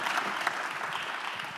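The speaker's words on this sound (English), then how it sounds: "you can clap if you want to clap" Audience applause at a justice conference, a short burst of many people clapping together, steady and fairly close, with no speech over it.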